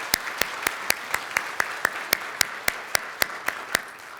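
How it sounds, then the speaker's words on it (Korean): Church congregation applauding in welcome during a Sunday service, with a steady train of sharp, evenly spaced claps standing out over a dense wash of crowd clapping, sustained and moderately loud throughout. "잠깐만 일어서 주시면 박수로 환영하도록 하겠습니다"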